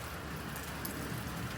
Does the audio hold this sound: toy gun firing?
no